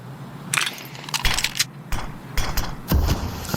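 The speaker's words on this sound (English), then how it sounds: "That was the sound of an underhanded right-click smoke" An underhanded right-click smoke grenade throw in Counter-Strike 2 comes through as several short, crisp clattering and rustling bursts in quick succession during a match, with no talk over it.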